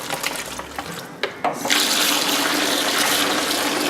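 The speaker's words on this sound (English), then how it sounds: "continuously fill it up with water and drain" Scattered clinks and splashes, then tap water pours steadily into a bowl of beans, loud and close, filling it for washing.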